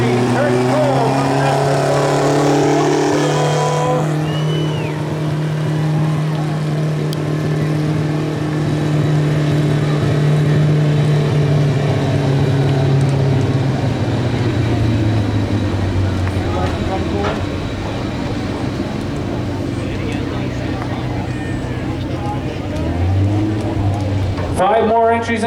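A modified lawn tractor engine drones loudly at a 1200 lb tractor pull, holding a steady pitch that shifts and tapers off midway, under continuous announcer talk over a public address.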